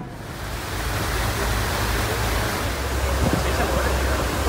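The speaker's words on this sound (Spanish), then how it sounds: "Vamos, chicos, para un paseo en barco." Water and waves surge loudly and steadily during a boat ride on the sea, a dense continuous wash with a low rumble underneath.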